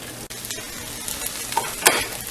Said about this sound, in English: I'm just going to stir that corn right in